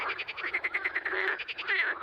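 Several people imitate a frog's croak with their voices, a rapid rhythmic series of raspy pulses lasting about two seconds, fairly loud and close, with no other talk.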